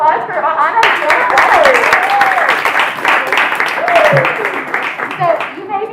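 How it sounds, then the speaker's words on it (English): An audience claps in a lively burst for two volunteers at a student stand-up comedy show, the clapping running throughout while voices call out and talk over it. "Let's get a round of applause for Ahana and Fiona."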